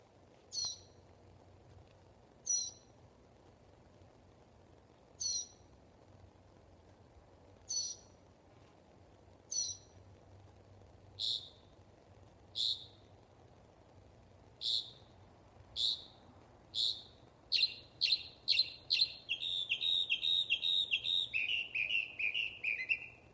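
An unidentified nocturnal bird calls over and over at night, sharp chirps spaced a couple of seconds apart that speed up into a rapid, continuous run of calls near the end, fairly close against a quiet low hum.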